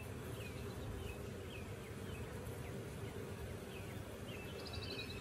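Honey bees swarm around an open beehive during a honey super and queen excluder setup, giving a steady, dense buzzing hum throughout with faint bird chirps behind it.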